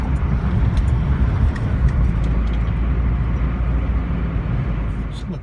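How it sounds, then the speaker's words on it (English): A car drives down a quiet residential street, its engine and tyre rumble a steady low drone from inside the cabin, with someone talking over it. "Just driving down a nice peaceful street."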